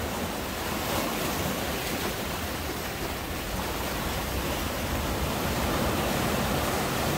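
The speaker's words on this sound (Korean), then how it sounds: "파도가 많이 높아졌네요." High sea waves crash on a Korean shoreline during a sandfish trap fishing trip, a loud, continuous roaring wash of surf with no pauses and no voices.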